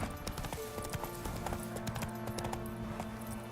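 Hooves of the horse Roach clip-clopping in a steady trotting rhythm in The Witcher video game, at moderate distance with a constant ambient bed beneath.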